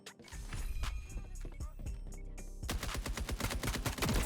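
Gunfire in a tactical shooter game: scattered single shots at first, then a dense rapid burst of automatic fire, close and loud, with faint talk underneath.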